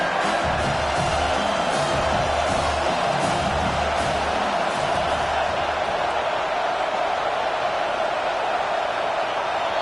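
Loud stadium crowd at a college football game involving Nebraska, a steady dense roar with rising cheers that fills the whole stretch without letting up.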